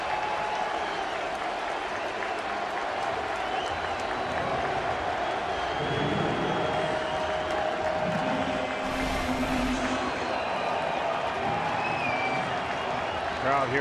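A baseball stadium crowd in San Diego cheers and applauds at a USA vs. Dominican Republic World Baseball Classic game, a steady roar of many voices and clapping that swells midway, with a commentator talking over it.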